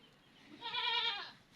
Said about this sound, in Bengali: এই যে আমাদের গরুর বাছুর